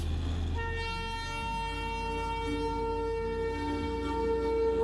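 The Darjeeling toy train passes in the hills below a hotel, its sustained horn tone sounding steadily over a low rumbling engine drone, moderately loud and continuous.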